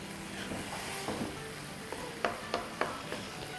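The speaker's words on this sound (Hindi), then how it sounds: "अब मसालों के साथ 2-3 मिनट ऐसे भूनेंगे" Minced meat keema roasts with spices in a pan on the stove, giving a steady soft sizzle. Several sharp spatula scrapes and taps cut through it at irregular intervals, close and fairly quiet.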